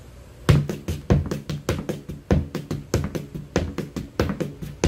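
Clogging shoe taps on a hard floor dance in jig time, quick clustered knocks grouped in threes with a bouncy, lilting rhythm, close and crisp.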